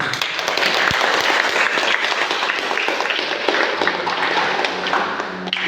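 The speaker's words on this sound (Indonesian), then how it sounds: "Mari kita tepuk tangan buat Tuhan." A church congregation applauds together during a sermon, a dense, steady wash of clapping that holds loud and even for the whole stretch with no talk over it.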